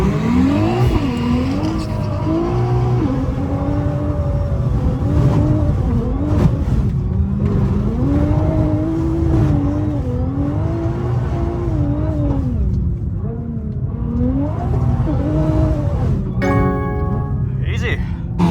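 A Nissan GT-R and 1000+ HP race cars run head to head, with loud engines revving and shifting through rising and falling pitch sweeps, a brief tire squeal, and a voice talking over the racket.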